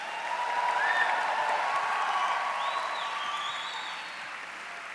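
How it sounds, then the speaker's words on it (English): Audience at the Silver Knight Awards ceremony applauding nominees and guests, a dense, sustained roar of clapping and cheering with a few whoops rising over it, gradually easing toward the end. "Let's give a big round of applause for all of our nominees and guests tonight."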